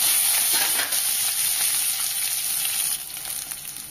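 Curry leaves sizzle and crackle in hot oil while sautéing for a South Indian brinjal and drumstick kuzhambu, a loud, steady frying hiss that fills the whole stretch with no voice over it.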